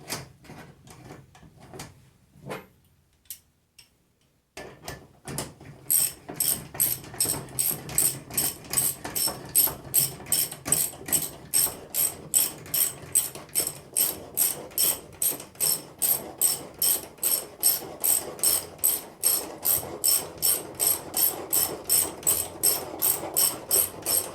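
A ratcheting band clamp is cranked tight around a pool cartridge filter, with a long, steady series of sharp, loud clicks in an even rhythm, close up, following a few scattered knocks of the handle being positioned.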